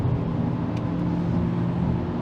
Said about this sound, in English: Get that turbo kicking in.